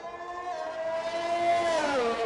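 A McLaren GP2 race car in a racing game pulls out of the pits at the Australian Grand Prix, its engine a steady, fairly faint droning whine that holds pitch, then dips near the end.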